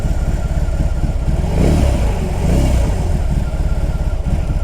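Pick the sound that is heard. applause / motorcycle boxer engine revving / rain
motorcycle boxer engine revving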